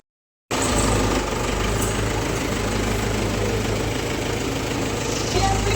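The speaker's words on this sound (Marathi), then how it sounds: "इथे काहीतरी ट्रॅक्टरचं काम चालू आहे" A tractor engine runs steadily nearby at a village house, a constant loud mechanical drone with a rough, knocking idle that holds unchanged for several seconds.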